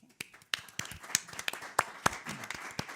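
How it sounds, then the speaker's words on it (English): A small group claps at a city council meeting, with sparse, uneven hand claps close by that build briefly into a short round of applause. "I think we should give them all a round of applause."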